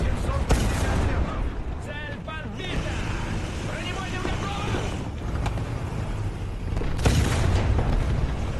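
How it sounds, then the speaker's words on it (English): Destruction of a tank turret in a video game, a loud dense barrage of booming blasts and gunfire with overlapping game noise throughout. "That was just the remaining turret of the last tank destroyed."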